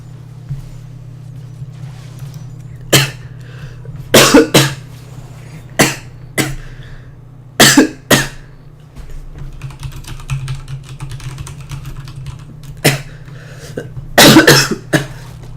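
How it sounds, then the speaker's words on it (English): A commentator coughs during a League of Legends esports match at a Summer Rumble university tournament: several sharp, loud bursts come singly and in quick pairs, close to the mic, over a low steady hum. "this cough's coming in big time"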